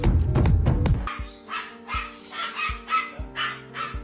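A burst of loud rumbling opens, then a series of short, sharp bark-like calls repeats about twice per second, a parrot mimicking a dog.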